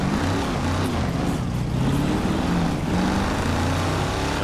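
A 1966 Chevy Nova in GTA 5 roars loudly as its engine accelerates, a steady droning growl with rising pitch sweeps holding close and constant throughout.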